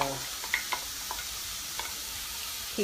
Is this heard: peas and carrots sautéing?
yes